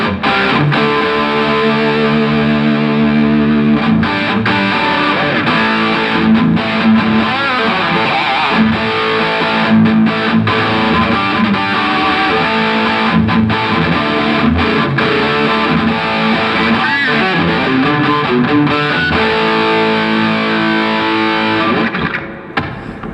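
A heavily overdriven Stagg electric guitar plays continuously at a music trade show, thick and distorted with sustained chords and notes, loud and up close throughout.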